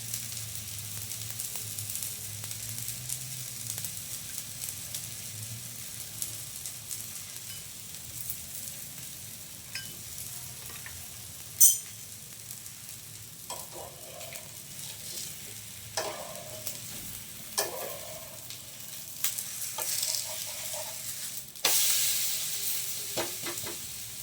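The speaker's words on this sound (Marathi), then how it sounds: "असं खमंग भाजून घ्यायचं." Mixed vegetable thalipeeth roasting in a little oil on a pan, a steady soft sizzle running throughout with occasional sharper crackles and light scraping taps, close and fairly quiet, no voices.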